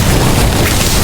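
An Incendio fire spell blast in the Harry Potter: Magic Awakened video game, a loud, dense, roaring burst that fills the whole brief moment without letup.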